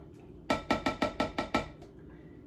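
Instant pudding mix and milk are being stirred in a bowl, giving about seven regular, evenly spaced clinks of a utensil against the bowl, close and fairly crisp, with no talking.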